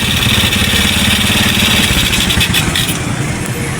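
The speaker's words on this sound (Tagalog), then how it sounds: "Patayin ko muna yung makina para tanggal ko yung spark plug cap" A motorcycle engine idles steadily up close with a fast, even putter, no voices over it; the bike starts but keeps dying.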